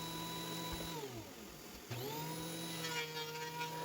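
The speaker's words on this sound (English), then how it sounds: "Now I'm running them through the planer." Pallet wood boards feed through a power planer, a loud steady machine whine whose pitch drops as each board loads the cutter, then rises again between passes.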